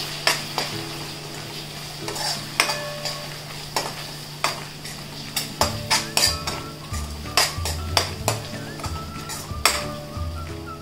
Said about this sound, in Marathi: फोडणीतच थोडीशी कोथिंबीर टाकूया आणि मसाले चांगले परतून घेऊया।